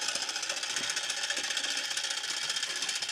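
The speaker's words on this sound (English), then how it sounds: "you can also hear him whirring away because his fan's working on his back as well" A small cooling fan on the back of a Real Steel Atom toy robot whirs steadily and close by, a constant high hiss-like hum that holds level throughout with slight rapid flutter.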